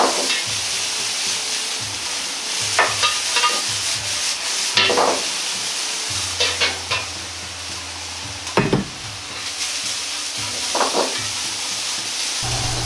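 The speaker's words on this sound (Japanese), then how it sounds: "生姜と豆板醤が油に馴染んできたら、ピーマンともやしを入れ、炒めていきます。" Green peppers and bean sprouts stir-fry in oil flavored with ginger and doubanjiang, a close steady sizzle broken by repeated scraping and tossing strokes of a utensil against the pan, with no talk.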